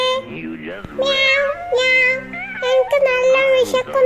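A cartoon cat meows in an animated Malayalam children's cartoon, several drawn-out, pitch-bending voiced meows close and loud, likely voiced by a person imitating the cat, with a bit of childlike speech mixed in.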